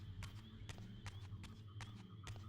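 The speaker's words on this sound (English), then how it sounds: "I hear footsteps." Footsteps in the video game Legacy of Kain: Soul Reaver 2, a steady run of evenly spaced, sharp steps over a low hum, quiet and alone.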